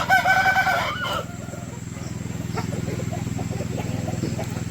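Roosters on a farm raising breeds such as Bheemavaram crow, loud and near at the start, then clucks and calls continue over a steady rhythmic background hum.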